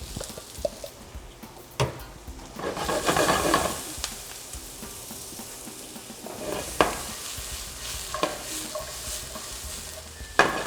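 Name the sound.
browning onions in a pan after chicken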